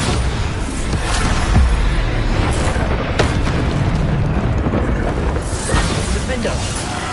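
Bombarda blasting spells explode in a Hogwarts Legacy duel, with several booming bursts and sharp pops over a dense, continuous roar of combat noise, and voices calling out spells.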